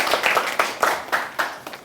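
A high school classroom of students claps for a classmate's presentation, giving a brief burst of fairly rhythmic group clapping, close and lively, with no talking.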